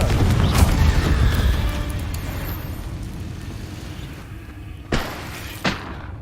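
Confringo fire spells from Hogwarts Legacy burst as loud blasts early on, then fade to a low rumble, followed by two sharp, separate impacts near the end.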